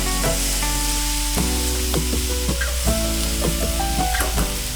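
Marinated chicken pieces for chicken roll sizzle steadily in hot oil, a continuous close frying crackle with occasional stirring clinks and tonal hums in the background, no talking.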